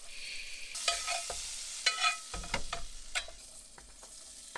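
Butter sizzles softly in a pan at a forest camp after bacon, with onions going in; quiet hiss broken by a few scraping stirs and clinks, fairly close but low in level.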